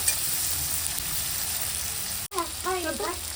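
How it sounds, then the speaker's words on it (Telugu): Rice and egg fry in a pan with a steady, close-up sizzling hiss. Near the end the sound cuts out briefly, then resumes with what sounds like faint voices under it. "కొంచెం ఫ్రై కావాలి."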